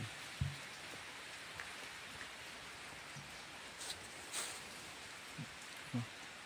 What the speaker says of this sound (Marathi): आता सारा पाऊस झाला